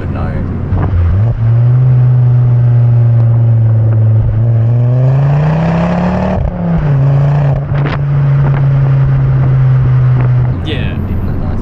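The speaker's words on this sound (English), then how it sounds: "I'd say it's hard to make an XR5 sound bad too, with an exhaust." A Ford Focus ST XR5 turbo with a stage 1 exhaust revs up, holds a steady drone, climbs again, then settles back toward idle. The note is loud and close, and people talk over it.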